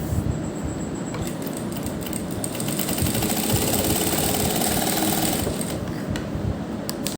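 A sewing machine runs steadily for several seconds, stitching along the folded edge of fabric for a butterfly neck design, with a constant dense mechanical whir and no pauses.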